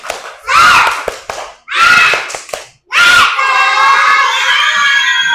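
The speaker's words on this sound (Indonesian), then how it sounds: "Sekarang Miss mau tepuk semangat." Children in a classroom perform a rhythmic clapping cheer, with bursts of clapping and loud shouting in several short rounds, ending in a sustained chorus of voices.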